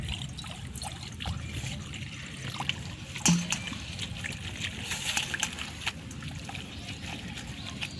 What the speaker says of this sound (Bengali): কড়ায় উনানে কড়া বসিয়ে দিচ্ছি এক বাটি জল দিয়ে দিচ্ছি